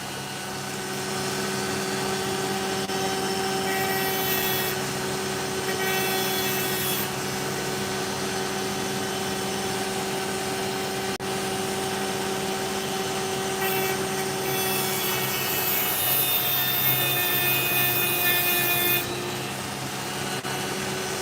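An opal stone is cut and ground on a lapidary machine, giving a continuous loud whirring grind with a steady motor hum throughout, and no voices.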